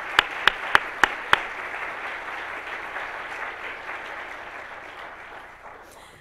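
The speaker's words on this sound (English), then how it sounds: "give her one more round of applause" A lecture audience applauds steadily in a room, the clapping a broad, even wash that slowly fades, with a few sharp nearby claps standing out at the start.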